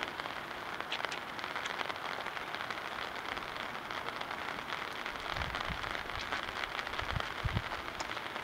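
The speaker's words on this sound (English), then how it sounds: "And you can even enjoy it in the rain." Steady rain falling outdoors around a 1999 Ford F250 XLT Super Duty pickup, a dense even hiss of drops with occasional closer patters.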